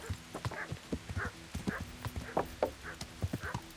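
A horse's hooves clip-clop at a steady walking rhythm in the medieval game Kingdom Come: Deliverance, close and clear, with faint creaks between the regular beats.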